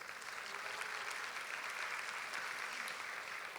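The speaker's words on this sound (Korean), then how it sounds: "우리 관현악부에도 한번 박수할까요?" A church congregation gives an orchestra a steady round of applause. Many hands clap evenly in a large room, and a faint voice can be heard beneath them.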